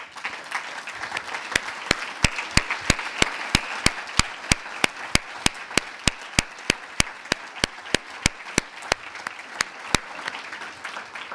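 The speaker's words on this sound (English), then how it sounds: "please stand for a round of applause" Applause from a seated audience at a welcome luncheon during a leadership forum, with a steady wash of clapping and sharp, regular claps near the mic throughout.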